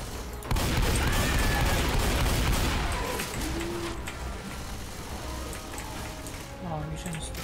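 Left 4 Dead 2 gunfire on the Freezing Point campaign comes as a rapid, loud burst of shots and clatter that settles into a lower rumble of continued firing, with a voice talking over it.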